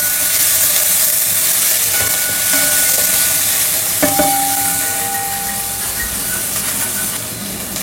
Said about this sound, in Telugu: కొంచెం ఉల్లిపాయ నూనెలో వేగితే సరిపోతుంది